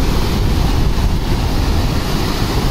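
The Sisarma river in Udaipur runs fast after heavy rain, giving a loud, continuous broadband roar of rushing water buffeted by wind noise on the microphone, with no voices.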